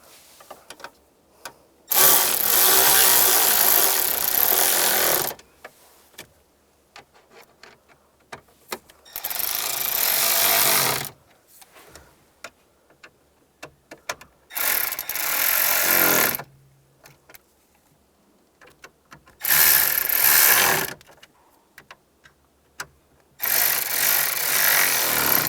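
Power screwdriver bursts tightening the mounting screws of a heater and A/C control unit in a 1999-2005 Volkswagen Jetta, five separate whirring runs of a few seconds each, close and loud, with quiet pauses in between.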